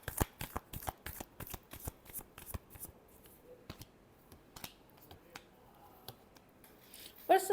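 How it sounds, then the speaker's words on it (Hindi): A deck of tarot cards being shuffled in a quiet room, a fast flurry of crisp card riffles and slaps at the start, then sparse single snaps and taps, and a final flick at the end. "Last shuffle."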